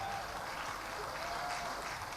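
An audience claps at a political declaration event in Jakarta, a dense, steady wash of applause throughout with no breaks.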